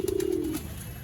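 A pigeon coos close by with a single soft, low, sustained call that fades after about half a second, set against a quiet background in a loft of nesting birds.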